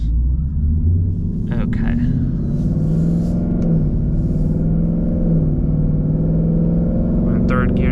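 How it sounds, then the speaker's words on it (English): A Ford Mustang engine runs as gears are shifted with paddle shifters, giving a loud, close, steady low rumble with rising and falling engine tone through the whole stretch, while someone talks briefly. "I just want you to observe how the RPMs operate as I upshift and downshift."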